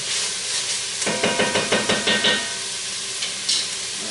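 Onions frying in a pan, a broad sizzle with a run of rhythmic scraping or tapping strokes from a spatula in the middle, close and fairly loud, no talking.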